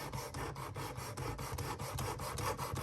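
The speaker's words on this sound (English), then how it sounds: "So start sharpening." A single-bevel broadhead is stroked back and forth across a sharpening stone, giving a steady, close rasping rub in even repeated passes with no talking.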